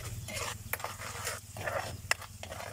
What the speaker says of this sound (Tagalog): So ato siya mikos-mikos guys para mahilis ang asukar ug asin.